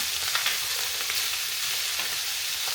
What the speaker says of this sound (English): Add the lamb in and start pan searing on low heat.